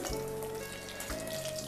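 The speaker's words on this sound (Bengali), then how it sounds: "ডিমগুলো ভাজা হয়ে গেছে," Eggs sizzle and fry in oil in a kadai, a steady close crackle and hiss throughout with a faint tonal hum underneath and no talking.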